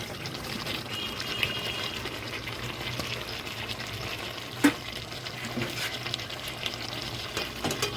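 Chicken curry with potatoes being stirred in a pan, a steady low sizzle with soft scraping and shuffling throughout, one sharper knock near the middle, no voices.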